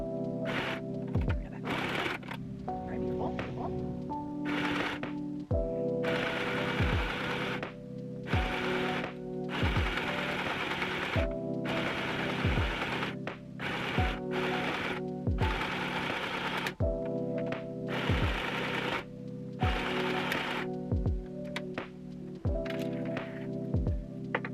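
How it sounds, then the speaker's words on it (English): A sewing machine stitches fabric in repeated mechanical bursts, running in short runs separated by brief pauses, close and steady with no talking. "Okay, I got the other side on, sewed on with ease."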